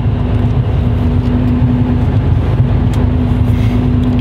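A car cruises along the A1 motorway with a loud, steady interior drone of engine and road noise and a constant low hum, unbroken for a few seconds.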